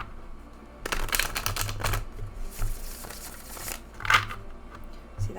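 A thick-cardstock tarot deck is riffled and shuffled close by, with bursts of crisp flapping and clicking card noise and soft handling sounds between them.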